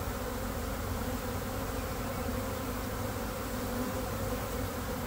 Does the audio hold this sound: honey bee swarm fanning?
yes